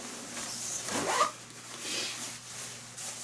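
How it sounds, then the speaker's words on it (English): Zipper being pulled closed on a down sleeping bag, one quick close rasping stroke followed by softer fabric rubbing, heard up close and quiet with no talking. "you'll want to make sure all your zippers are closed on your bag"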